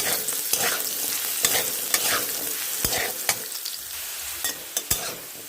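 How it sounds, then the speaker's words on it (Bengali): Potatoes fry in a pan with a steady sizzle while a utensil stirs and scrapes them, sharp clinks and scrapes punctuating the frying every second or so, close and loud. "তার জন্য অবিরত নেড়ে নেড়ে আলুটা ভেজে নিতে হবে।"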